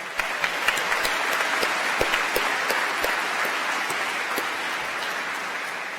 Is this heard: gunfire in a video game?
no